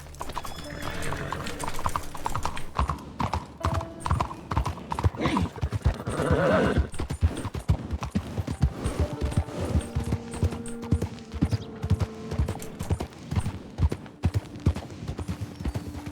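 Horse hooves clip-clop in Red Dead Redemption 2, a steady close rhythm with a whinny, while people talk over the riding.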